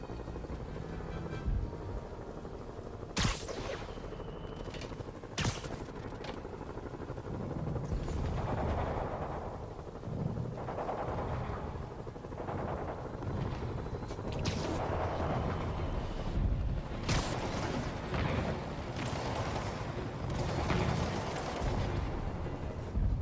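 Gunfire and explosive bursts in the Marvel's Spider-Man video game on PS4, a dense run of sharp cracks and booms over a constant rumbling battle din, loud and close with no talk.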